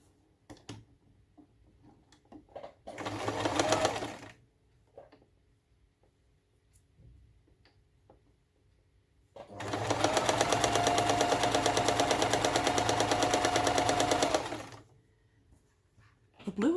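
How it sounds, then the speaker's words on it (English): A sewing machine runs in two bursts, a short run of about a second and then a longer steady stretch of about five seconds of rapid even stitching, with quiet gaps and faint sounds between. "Got a good sewing machine."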